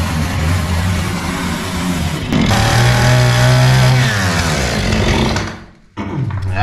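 Chainsaw cutting through sand-filled wooden ceiling beams in a 1920s timber-beam floor, a loud continuous ragged buzz that bogs and rises in pitch under load, then cuts out briefly near the end before restarting.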